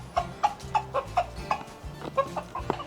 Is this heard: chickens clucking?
yes